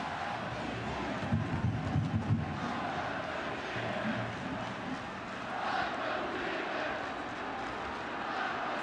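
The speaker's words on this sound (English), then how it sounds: "Fans now chanting undefeated." Utah fans among a stadium crowd of over 71,000 at the 2009 Sugar Bowl football game against Alabama chant together, a dense, steady roar with heavier rhythmic surges early on and no clear voices standing out.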